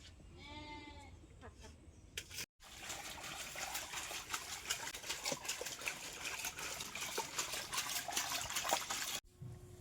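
Water trickles and splashes steadily up close as freshly cut Sundarbans fish is washed, following a brief wavering bleat-like call at the start.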